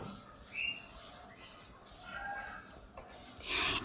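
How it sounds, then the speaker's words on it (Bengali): Semai vermicelli being stirred with powdered milk in a pan gives soft scraping and a light sizzle, close and fairly quiet, with faint whistle-like tones in the background. "গুঁড়া দুধ দিয়ে আবার সেমাইয়ের সাথে ভালোভাবে মিশিয়ে নিতে হবে।"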